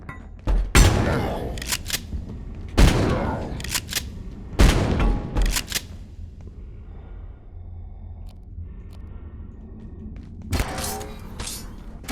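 Gunfire in the video game Abiotic Factor: several heavy bursts of shots with booming thuds, spaced a few seconds apart, then a quieter stretch of low rumble before another volley near the end.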